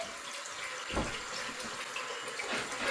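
Water runs steadily from a tap while a hair mask is rinsed out, a continuous close splashing wash with a couple of brief louder gushes and no talking.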